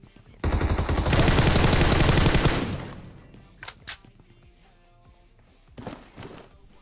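Loud automatic gunfire in PUBG Mobile, a sustained burst of about two seconds followed by a few shorter shots and scattered game sounds, with a voice speaking in places.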